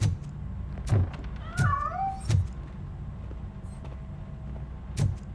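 A cat meows in the RoboCop: Rogue City video game, giving a few short, wavering cries partway through, set against a steady ambient hum and several dull thumps.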